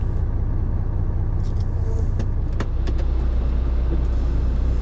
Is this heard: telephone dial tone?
no